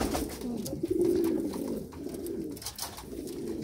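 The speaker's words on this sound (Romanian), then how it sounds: "Păsări tinere, de anul ăsta, inele albastre" Young pigeons of this year, wearing blue rings, coo softly and low in a close, murmuring coop setting, with a short soft purring coo standing out near the start.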